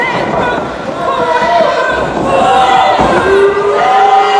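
A crowd at an intergender wrestling event cheers and shouts for Emilio, a loud, dense roar of many voices with chants and yells rising and falling throughout.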